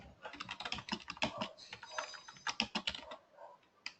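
Quick, uneven keystrokes clatter on a computer keyboard during an online programming class, close and clear with short pauses between bursts and no talking.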